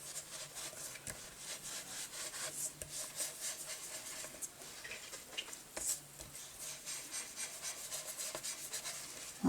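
Paper edges rubbed with a Vintage Photo ink blending tool for a junk journal, a soft continuous scratchy swishing with repeated short strokes, close and quiet, no talking.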